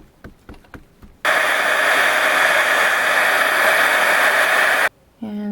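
A heat tool runs in one loud, steady, continuous whoosh for several seconds while clear embossing powder over stamped distress ink is melted, preceded by a few faint taps and cutting off abruptly near the end.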